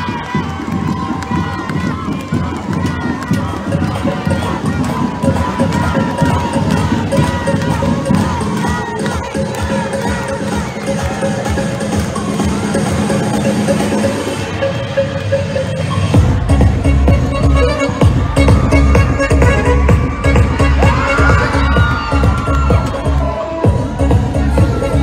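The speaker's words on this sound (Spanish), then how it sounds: "¡Fuerte los aplausos!" A crowd at a children's festival election of child kings in Isla, Veracruz, claps and cheers continuously, dense and loud, with shouts mixed in and a heavier burst of applause in the latter part.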